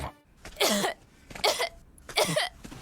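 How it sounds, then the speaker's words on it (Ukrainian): A child coughs in three separate bursts, each a short cluster of harsh coughs, close and fairly loud with brief pauses between. "Прийшла зі школи, почала кашляти."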